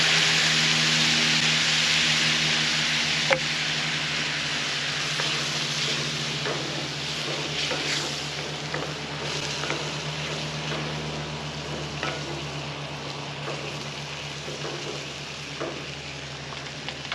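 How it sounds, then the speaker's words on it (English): Chili made with V8 juice simmering in a cast iron pot outdoors by a lake, a steady low bubbling hiss with a faint constant hum beneath and occasional soft pops. "Let her simmer."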